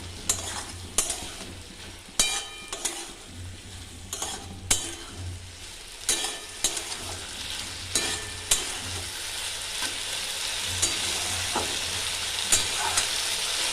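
Tomato pieces sizzle and fry in a pan with okra and potato curry, a steady frying hiss broken by repeated sharp scrapes and clinks of stirring, close and fairly loud throughout.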